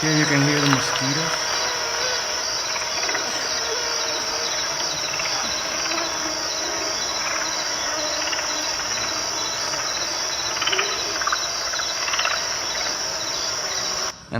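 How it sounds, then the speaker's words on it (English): A dense, continuous high-pitched whine and chirring of mosquitoes fills the air outdoors in a swamp, steady throughout with no pauses. "Here you can hear the mosquitoes."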